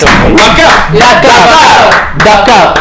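Audience cheering and shouting loudly in bursts, dense crowd voices close by at a game event.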